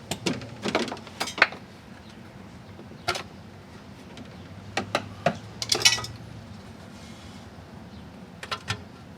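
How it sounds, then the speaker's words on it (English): Metal bolts and a transmission oil pan come off a 2003 Toyota Camry 2.4L, giving scattered sharp clinks and taps of tools and metal parts, some clustered together, against quiet garage background. "take out the last 2 bolts, and gently work that pan off"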